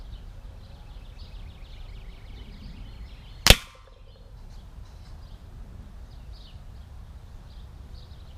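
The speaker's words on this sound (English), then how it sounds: "So I'm gonna try shooting a can, see if I got my sights zeroed in properly." A single sharp crack from a Crosman Optimus .22 pellet rifle fired at a can, one loud close shot standing out over quiet outdoor background with faint birds.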